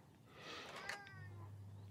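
A cat gives a short, rising meow close by, a single brief call over a low steady hum in a quiet room.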